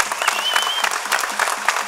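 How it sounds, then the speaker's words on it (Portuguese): A short burst of crowd clapping greets a performer at a 2024 Carnaval bailinho show in Ribeirinha, loud and close, with a faint voice and a brief whistle mixed in. "Um forte aplauso para ele."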